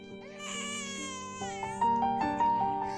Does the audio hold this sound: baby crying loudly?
yes